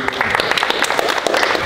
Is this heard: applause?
yes